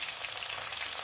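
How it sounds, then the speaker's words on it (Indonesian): Soybeans frying in hot oil for a Lombok-style nasi balap, a soft, continuous crackling sizzle heard up close and alone. "Kedelainya kita goreng juga."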